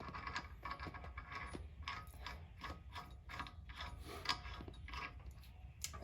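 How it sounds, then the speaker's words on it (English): A Honda Civic axle nut is threaded loosely onto the axle by hand during a lower ball joint swap, giving a close, steady run of small metallic ratcheting and clicking with no talk. "I'm also going to put this axle nut on loosely."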